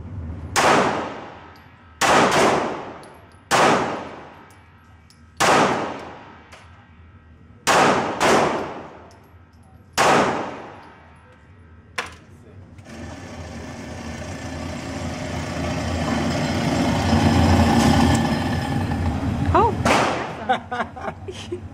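Handgun shots from Ruger and Smith & Wesson pistols, including an LC9, 442, SP101 and M&P, fired at a shooting competition: seven loud sharp reports spaced a second or two apart, then a long rising stretch of crowd noise and talk ending in another shot.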